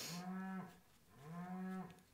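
Cattle moo twice nearby outdoors, each low drawn-out call lasting about half a second with a short gap between them, clear and alone with no talking.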